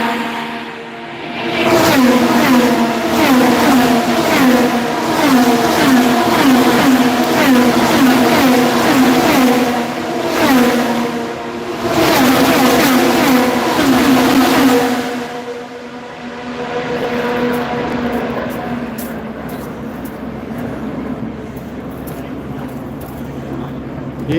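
Race cars at the Honda Indy Toronto roar past at speed down the back straight, loud, high-pitched engines rising and falling as they pass close by, several cars in succession before fading into distant crowd and track ambience.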